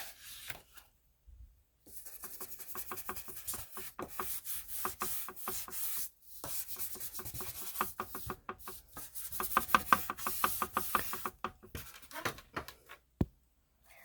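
Ink is rubbed along the page edges of an old book in a close, quiet series of dry scraping strokes, coming in bursts separated by short pauses.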